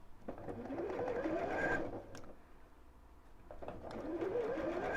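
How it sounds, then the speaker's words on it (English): Sewing machine stitching straight across the bottom of a small fabric bag, two sustained runs of motor whir with rising pitch separated by a brief pause, moderately close and alone. "and then sew straight across, all the way across this time."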